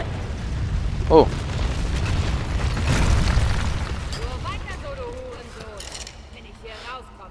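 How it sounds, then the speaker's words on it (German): Explosions in the video game Tomb Raider: a sharp booming blast early on, followed by a longer rolling rumble, with voices and in-game sounds over the top. "Und bevor alles explodiert."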